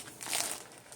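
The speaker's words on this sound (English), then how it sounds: "it's just a plastic bag" A plastic bag used as a cast cover over a knee crinkles briefly, a faint, close rustling crackle of thin plastic with no voices.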